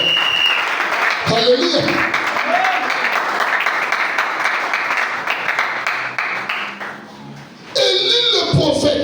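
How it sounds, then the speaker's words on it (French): A church congregation claps and applauds during a Sunday service, a steady dense wash of clapping lasting several seconds, with voices calling out over it before it fades and speech resumes. "Est-ce qu'on va acclamer la parole du Seigneur?"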